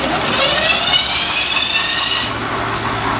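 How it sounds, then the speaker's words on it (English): A 66/80cc motorized bicycle engine cranks over on its electric starter, a loud close buzzing mechanical whir that runs steadily for a couple of seconds and then drops slightly in level, no speech. "You just turn the key and the thing cranks."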